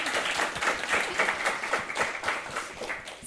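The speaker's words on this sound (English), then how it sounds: "Let's give a round of applause." A meetup audience claps after a Golang talk, a moderately loud patter of many hands with uneven bursts that keeps going throughout, with no speech over it.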